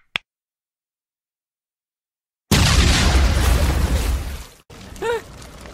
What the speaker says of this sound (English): I almost forgot I rigged these to a remote detonator.